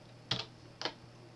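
Two short, crisp keypresses on a computer keyboard, the Windows key and then the letter E, each a quick click with a moment's pause between them, close by in a quiet room.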